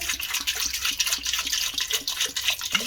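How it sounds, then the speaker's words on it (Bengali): Water is poured into a pressure cooker holding about 600 grams of washed small new potatoes, making a close, continuous splashing gurgle with a faint rhythmic slosh and no talking. "এবারে দিয়ে দেব জল।"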